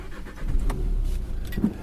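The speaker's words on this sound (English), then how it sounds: "It's a little diesel. I've come to the launch of the Renault Kadjar" A Renault Kadjar with a small diesel engine, heard from inside as a low steady engine drone with a slight swell in revs midway, fairly loud and alone without talk.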